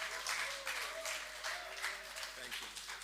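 Audience applause at a Lagos business chamber event, a burst of clapping from a seated crowd that rises and fades in waves, with a voice speaking over it.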